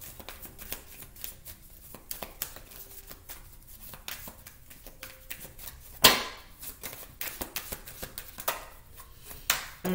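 Tarot cards being shuffled and handled during a daily reading, a run of soft papery riffles and flicks with a sharper slap near the middle and another toward the end, close and fairly quiet with no talking.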